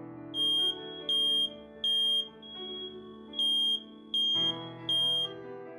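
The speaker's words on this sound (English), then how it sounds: "when the smoke alarm sounds" A smoke alarm sounds loud, shrill beeps in short repeating bursts over a quiet musical background in a fire prevention announcement.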